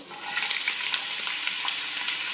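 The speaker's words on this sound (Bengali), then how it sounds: "এবার আলুটা ভাজবো" Potatoes, drained of water and unsalted, frying in a pan with a steady close sizzle and faint crackling pops, no voices.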